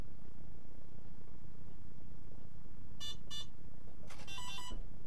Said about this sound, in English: One beep is clockwise, two beeps is counter.